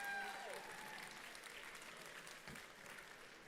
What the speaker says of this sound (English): one last round of applause for all our amazing mentors who you appreciate so much